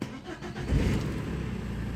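A BMW E90 fires up at the push of its start button, a brief crank catching into a steady mid-pitched idle, close and fairly loud.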